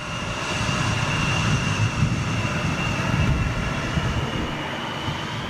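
A TUI Boeing 787-9 departs outbound for Bridgetown, its jet engines giving a steady, loud broadband roar that holds evenly throughout with no talk over it.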